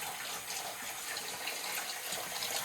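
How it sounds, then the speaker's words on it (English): Water rushing steadily from a household tap during a water filter change, a constant close hiss with slight uneven sputtering from air pockets in the line. "Turn on the water"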